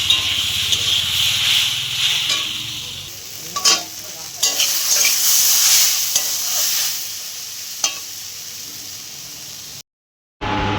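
A vegetable cooking in a pan in a hot tin-roofed home kitchen: steady sizzling, repeated scraping strokes of stirring, and rustling, near and clear, with no voices, before a sudden brief dropout near the end.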